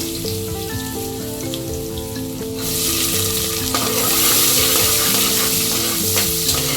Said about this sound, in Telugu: ఈ విధంగా కూరగాయలు వేగుతూ ఉండగానే